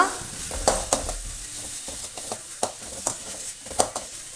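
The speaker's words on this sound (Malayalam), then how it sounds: "ഇനി ഇതിലേക്ക് നമുക്ക് ചോപ്പ് ചെയ്ത് വെച്ചിരിക്കുന്ന സവോള ചേർത്ത് കൊടുക്കാം. നന്നായി മിക്സ് ചെയ്യുക." Chopped onions sizzle and fry in a pan for a Kerala catering-style chicken curry while a spoon stirs them, scraping and knocking in irregular strokes over a constant close hiss.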